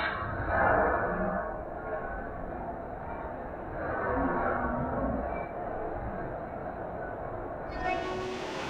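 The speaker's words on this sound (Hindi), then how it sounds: "रहमान बाबा एक्सप्रेस 48 डाउन रावलपिंडी से रवाना हो रही है" The Rehman Baba Express 48 Down train rumbles steadily as it pulls away from Rawalpindi, Pakistan, its low rolling noise swelling and easing, heard from nearby without voices.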